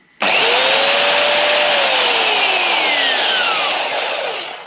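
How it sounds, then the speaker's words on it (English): A belt sander grinds loudly against a wooden end-grain picture frame in one continuous roaring pass. Its pitch drifts as the load changes, and it trails off slightly at the end with no speech. "belt sander saved the day"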